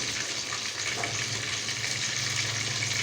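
Pieces of chicken fry in hot oil for a roast chicken dish. A continuous dense sizzle and crackle is heard close up, alone and steady throughout.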